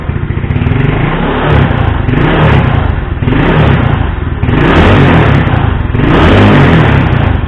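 Yamaha Mio scooter engine fitted with an aftermarket BRT regulator, revved close up in repeated loud throttle swells that rise and fall about every second and a half over a constant rough idle, with no voices.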